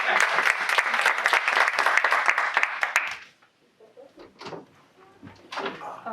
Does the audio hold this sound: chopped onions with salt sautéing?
no